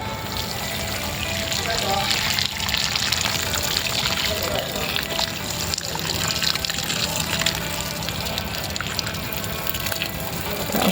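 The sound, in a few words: watering plants with a watering can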